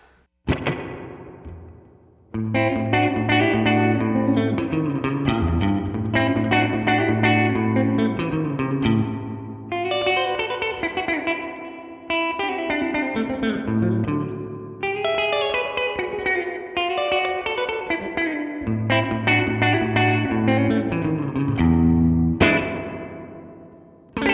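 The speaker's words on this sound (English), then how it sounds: "I think I have real spring reverb tanks that don't have that much dwell." Electric guitar chords and notes ring out through a Keeley Electronics reverb pedal, each phrase trailing off in a long, washy decay.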